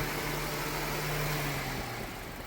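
A car engine idles at low volume in a short stretch, a steady mid-pitched hum with no talk over it, gently easing off toward the end.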